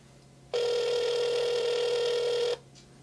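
An incoming phone call rings through a smartwatch linked by Bluetooth, heard as a single steady electronic tone lasting about two seconds and then cutting off, with quiet room hum around it and no talking.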